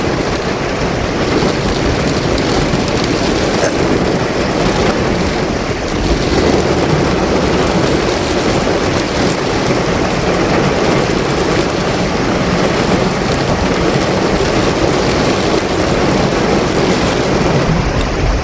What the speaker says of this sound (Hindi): भाई पहाड़ के ऊपर से पानी गिर रहा है